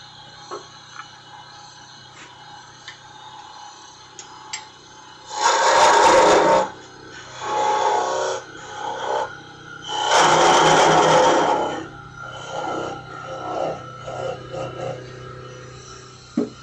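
A wooden woodturning mallet is shaped by hand, with several bursts of rasping, scraping strokes, some long and some short, separated by quiet pauses, and no talk.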